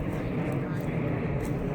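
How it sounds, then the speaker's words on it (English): Airplane passing overhead outdoors, a steady broad roar that holds level throughout, with a voice talking over it. "Must be about the 5th or the 6th recording I've had a plane go over me"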